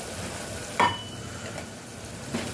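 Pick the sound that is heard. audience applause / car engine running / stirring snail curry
stirring snail curry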